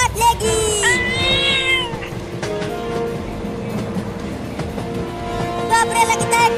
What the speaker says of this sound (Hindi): ये खतरनाक बिल्ली मुझे काट लेगी